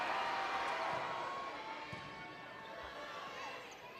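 Crowd noise in a high school gym during a close volleyball match, a broad murmur of fans cheering that fades gradually, with faint sneaker squeaks and thuds from the court and no clear talking.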